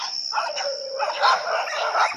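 Dogs bark outdoors in a short burst of overlapping yaps, fairly distant and thin over a steady insect-like hiss.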